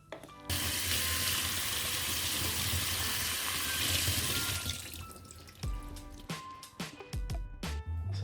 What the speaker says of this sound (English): refresh this by putting some cold water through it